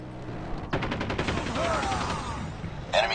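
Rapid automatic gunfire rattles in a Call of Duty match, a fast string of shots lasting a couple of seconds amid game sounds, with another short burst at the end.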